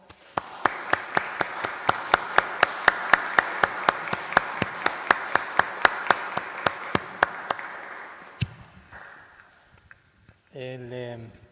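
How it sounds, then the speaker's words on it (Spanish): Church congregation at a Mass clapping to congratulate newly named confirmation candidates, sharp evenly spaced claps in a steady rhythm for about eight seconds, then a brief pause before a voice begins speaking. "Los felicitamos con un aplauso."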